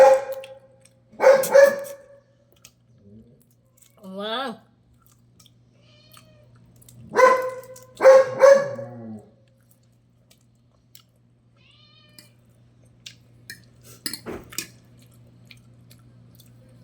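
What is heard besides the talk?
dog barking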